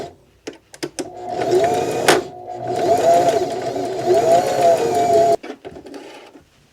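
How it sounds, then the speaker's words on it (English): A sewing machine runs a test seam through a thick fabric sample with the presser foot pressure lowered, a loud close mechanical whir in two bursts with a brief pause and light clicks around them. "Now I'm gonna try to sew it like this."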